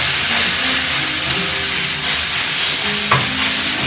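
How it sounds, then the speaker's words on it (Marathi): Okra chutney fries in hot oil with a loud, continuous sizzle and hiss, close up, with faint stirring scrapes of a utensil in the pan and no voices. "आता आपल्याला ही चटणी थोडीशी फ्राय करून घ्यायची मस्त"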